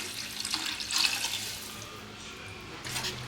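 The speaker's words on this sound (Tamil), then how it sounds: "கொஞ்சம் கம்மியாக ஊற்றுறேங்க, ஏன்னா தக்காளியில் கொஞ்சம் தண்ணி இருக்கும்" Water poured into a cooking pot for fish biryani rice at home, a soft, splashy trickle with a couple of brief louder gushes, fairly close and quiet.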